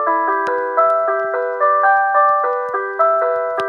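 Bright, chiming piano-like notes from the Piano Tiles tapping game ring out in quick, regular succession, each tap triggering a clean bell-toned chord, loud and close with no voices.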